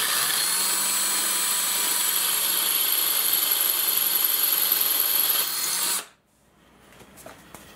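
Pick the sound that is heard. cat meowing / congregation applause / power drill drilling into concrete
power drill drilling into concrete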